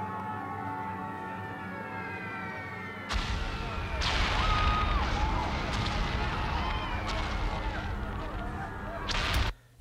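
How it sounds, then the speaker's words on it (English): A GarageBand explosion sample from a movie-style sound library bursts in suddenly after a tonal, siren-like opening, then sustains as a dense, loud roar and crackle before cutting off abruptly. "I found an explosion that sounded cool."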